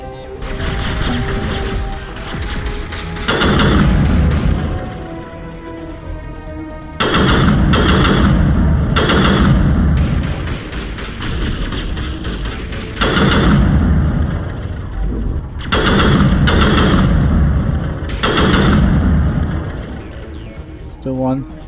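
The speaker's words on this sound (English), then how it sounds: "One pulling of the trigger gives 3 shots." Repeated three-round bursts of gunfire from a weapon in the Mass Effect video game, firing in loud clusters that alternate with quieter stretches over about twenty seconds.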